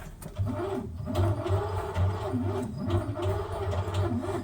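An engine turning over on its starter without catching after a few pumps of the accelerator pump, a steady rhythmic churning that keeps going for several seconds, close and fairly loud, with no voices.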